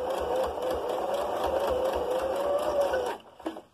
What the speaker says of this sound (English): And just sew along.